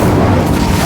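An Incendio fire spell cast in Hogwarts Legacy bursts as a dense, loud whoosh of low rumbling flame filling the full second with no pause or speech.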